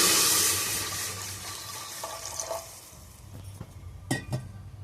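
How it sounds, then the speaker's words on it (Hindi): Water poured into a pressure cooker for dal, a loud rushing pour that tapers off, followed by a few soft clinks and splashes, close. "अब हम इसमें डालेंगे सबसे पहले वाटर।"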